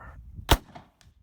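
A single sharp black powder gunshot crack from a muzzleloader out in the Arizona desert, loud and brief, with a short fading tail and faint rustling around it.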